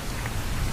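Steady rain falling in a Minecraft game world, a dense, even hiss of drops with no pauses, moderately loud and heard alone without voices.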